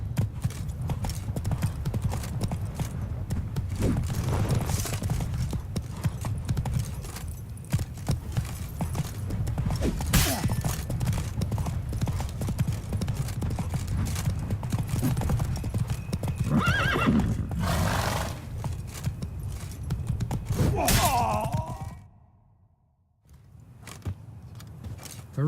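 Roach, Geralt's horse in The Witcher 3: Blood and Wine, gallops with steady clip-clop hoofbeats throughout and lets out a couple of neighs near the end, followed by a brief drop to near silence.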